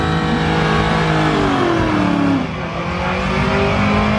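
Loud, continuous roar of drag race cars launching at a 2019 southwest drag racing event, engines revving hard with rising and falling pitch throughout, close and dominant with no talk.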